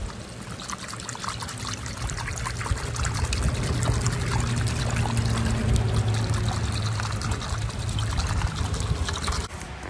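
Water pours and trickles steadily to wet hair during a haircut in the woods, a continuous close splashing stream with no talking.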